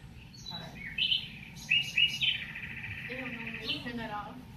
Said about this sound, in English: going to listen to some bird songs